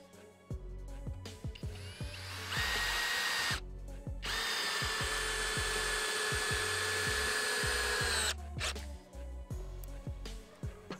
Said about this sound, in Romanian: o să mutăm pe modul de găurire